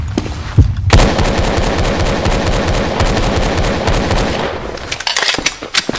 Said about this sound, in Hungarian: most pisztollyal megyünk